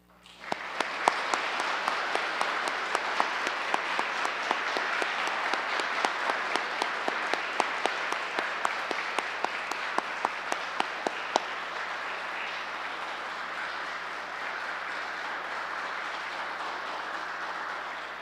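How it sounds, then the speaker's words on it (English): Sustained audience applause at a Boy Scouts of America Eagle Scout ceremony, a broad wash of many hands clapping with sharp individual claps standing out, steady for most of its length, then easing slightly toward the end. "Please join me in a round of applause."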